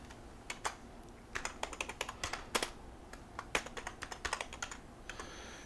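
Fingers type on a computer keyboard, with quick bursts of crisp, close keystrokes in an irregular rhythm over a quiet room.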